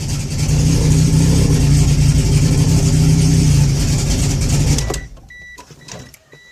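A car engine idling after a fuel system upgrade for E85, running a little rough: a steady low idle rumble for about five seconds, then it abruptly drops away, leaving only faint small clicks and noises.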